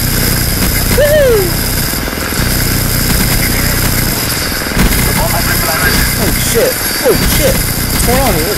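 A helicopter gunship chopper gun in Call of Duty Black Ops thunders with loud, continuous rotor and rapid gunfire, with whistling swoops over the top and a voice talking beneath it.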